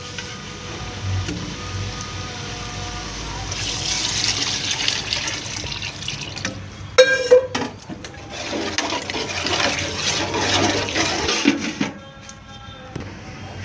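Water poured into a cooking pot for beef wheat rava biryani, about 1.5 litres, gives a steady rushing splash from about 3.5 to 12 seconds. It is moderately loud, with a few clinks and kitchen noises around it.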